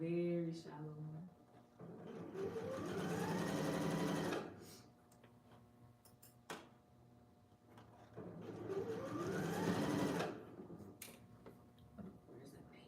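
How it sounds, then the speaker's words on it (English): A sewing machine runs a seam along the presser foot edge on fabric for a corset dress, in two long steady bursts separated by a pause with light handling noises. "I like when I can just line it up, my outer edge of my presser foot with the edge of the fabric and just sew"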